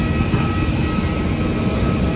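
An IndiGo airliner's engines roar at an airport as a dense, continuous wash of turbine noise that stays steady and loud throughout.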